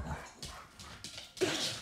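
A dog nearby whimpers and gives a few short, soft barks, ending in a louder yelp-like burst.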